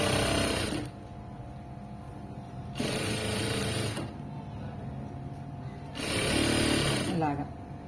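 A sewing machine stitches piping in loud, whirring bursts, three runs of roughly a second each separated by quieter pauses with a low steady hum.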